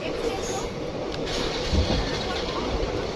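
A passenger train rolls along steadily past fields and a river, giving a low, continuous rumble from inside the carriage while someone talks over it.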